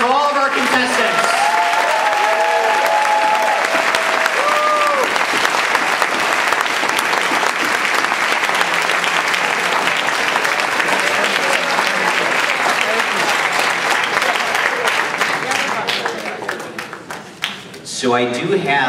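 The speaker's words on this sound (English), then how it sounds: "Big round of applause for all of our contestants." A large audience at a Toastmasters district speech contest claps for the contestants, dense sustained applause ringing out loudly for most of the stretch before tapering off near the end.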